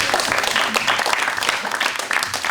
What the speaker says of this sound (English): Round of applause for these 2 ladies.